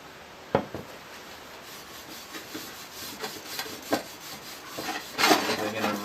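Finish-soaked rag rubbed onto a scythe part, soft scraping strokes close by with a few sharper swipes, no talking.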